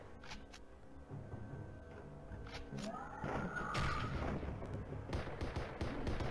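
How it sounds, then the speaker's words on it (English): Bomb blasts in the shooter game Blood and Bacon, a rumbling low boom building into heavy rolling explosions with gunfire crackle mixed in, moderately loud and continuous through the second half. "Bombs don't seem to help."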